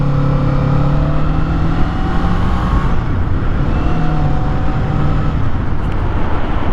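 A Kawasaki Eliminator 400cc cruiser motorcycle accelerates, its engine note climbing in pitch through the gears, with a brief dip at a shift. The loud, close engine drone mixes with rushing wind.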